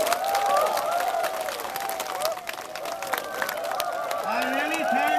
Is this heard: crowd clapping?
yes